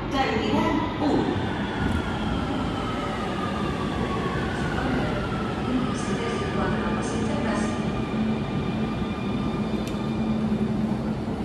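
Metro train at a Barcelona station heading for Aeroport Terminal 1, a steady loud rumble of the train and platform filling the whole stretch, with a voice audible over it.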